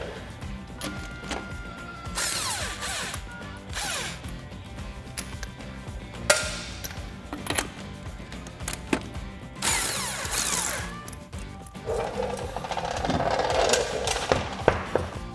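Lug nuts come off a 2005-2022 Toyota Tacoma wheel with a spline key on a 19 millimeter socket. Close metallic clinks, ratchety bursts and scraping tool clatter come in irregular clusters, with no talk over them.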